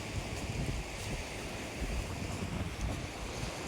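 Steady rushing floodwater from heavy rain in Thoothukudi flows continuously past a broken bridge, a broad dense roar without pauses, loud and close.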